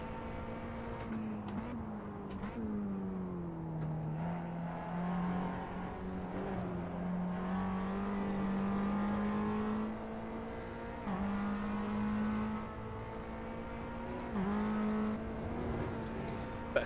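Renault Clio Cup race car in Assetto Corsa, its engine droning steadily under load with pitch rising and falling through gear changes across a continuous, fairly loud run, no talking.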